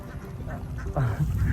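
Several ducks quack close by in a loud, busy cluster of overlapping calls at a creek, the quacks growing denser and louder partway through.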